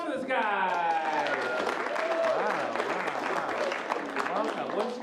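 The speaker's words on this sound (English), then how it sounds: "Give a round of applause for this guy." A late-night show audience applauds steadily and loudly throughout, a dense wash of clapping with a few cheers as a volunteer is called up, while a host's voice carries over the top.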